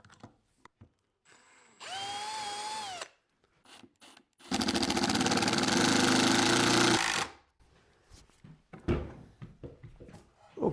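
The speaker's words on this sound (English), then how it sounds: "I'll use a Vicks bit to drill a pilot hole." A power drill fitted with a self-centering Vix bit bores pilot holes for caster mounting in a workshop, with two loud whirring bursts, one short and one longer, separated by quiet handling clicks and knocks.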